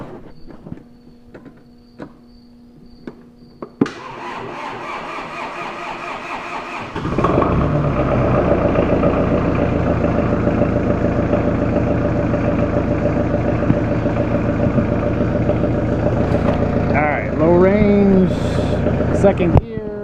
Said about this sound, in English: we're gonna get on and fire it up and see what happens